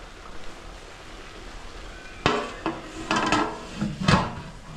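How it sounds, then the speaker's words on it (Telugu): A metal lid is set onto a pot of chicken dum biryani, giving several sharp clanking knocks and scrapes that come close together, near and fairly loud over a low background hiss. "మూత పెట్టేసుకుందాం."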